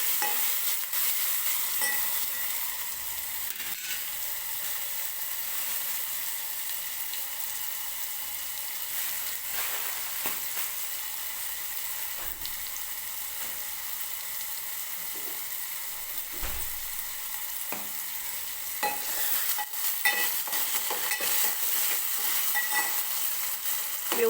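Chopped tomato roasting in oil in a pan, a long steady hiss of sizzling with occasional stirring scrapes and soft clicks, consistent throughout without talking.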